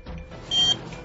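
A cheap handheld RFID reader gives a short electronic beep after scanning a credit card held near it, a single steady tone standing out briefly above a quiet room background.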